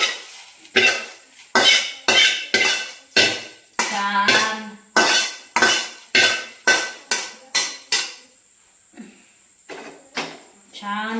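Roasted moth bean dal is scraped and scooped out of a pan in a quick series of about fifteen close, loud metallic scrapes at a steady rhythm, with a short pause before a few final scrapes.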